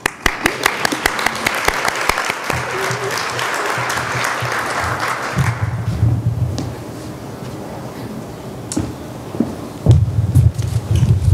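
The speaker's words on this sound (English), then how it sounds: "I want to applaud you" A conference audience applauds in a dense burst of clapping that fades after a few seconds, leaving room noise with a few scattered claps and a short rumbling gust.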